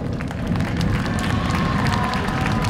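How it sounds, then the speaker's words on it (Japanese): Crowd at a high school track meet clapping and murmuring as runners in the men's 800m final are introduced, a dense, steady wash of applause and chatter, loud and continuous throughout. "大きな拍手をお願いいたします。"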